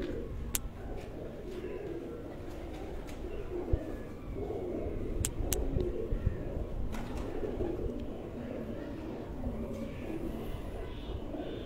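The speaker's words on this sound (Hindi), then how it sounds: "ये बड़े हसीन कबूतर हैं माशाअल्लाह। ये मोतियों वाले कबूतर" Pearl-marked pigeons kept at a home coo in soft, low, rolling murmurs close by, with a few sharp clicks and light scrapes scattered through the steady cooing.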